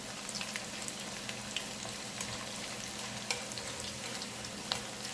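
Steady crackling sizzle of dried pollack strips and chili peppers deep frying in hot oil, with sharp pops now and then, close up and with no talking.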